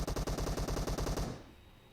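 Rapid automatic gunfire from PUBG Mobile, a fast burst of about a dozen evenly spaced shots that cuts off abruptly and leaves a short decaying echo, loud and close with no talk.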